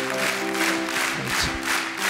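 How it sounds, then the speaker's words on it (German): Brief applause from a studio crowd at a Schlag den Raab cow-milking game, a steady patter of clapping layered over a sustained humming tone. "Ein bisschen Applaus kann nicht schaden"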